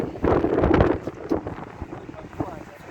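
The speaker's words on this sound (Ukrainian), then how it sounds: "Вітер такий дує." Gusty wind buffeting the microphone in rough, rumbling bursts, strongest early on, with faint voices underneath.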